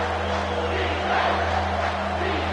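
A stadium crowd at a college football game roars loudly and continuously on a third-down play, a dense sustained wall of cheering with a steady hum underneath.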